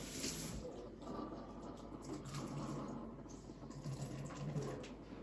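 Steam wand on a Breville Barista Express BES870 espresso machine purges water, a faint, continuous hissing, watery rush with light trickling and a quick sputter near the start.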